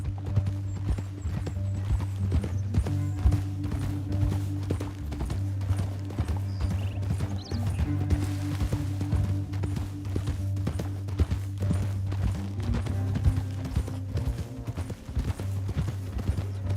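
Horse hooves clip-clop at a steady walking rhythm in the Western video game Red Dead Redemption 2, with a horse whinny and low ambient game music underneath, moderately close and continuous throughout.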